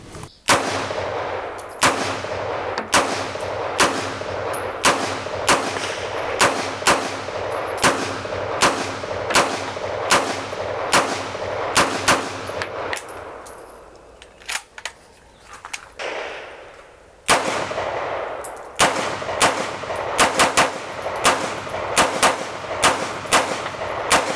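A Zenith Firearms Z-5K fires sharp, loud, close shots in steady series, with evenly spaced rounds, a short pause in the middle, then more shooting.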